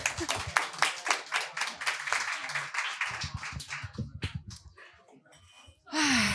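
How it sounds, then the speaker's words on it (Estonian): A small live audience claps for a speaker at an Estonian podcast gathering, dense close hand claps for about four seconds that thin into scattered claps and fade, followed by a brief louder burst of sound at the very end. "Aplaus Toomasele."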